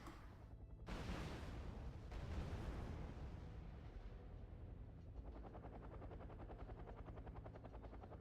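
Helicopter rotor noise in the Wargame: Red Dragon battlefield, a steady loud mechanical thrum with a sharp burst near the start and sustained rumbling and chopping throughout, no talk.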